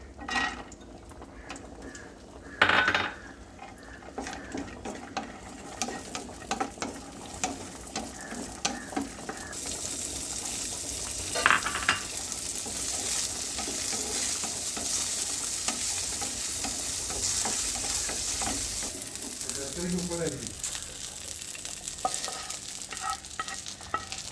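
Cashews and raisins fry in ghee for a Kerala kadala payasam, a steady close sizzle with occasional metallic spoon clinks and scrapes against the pan, growing fuller and hissier partway through.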